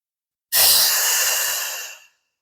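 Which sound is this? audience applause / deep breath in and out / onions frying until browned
deep breath in and out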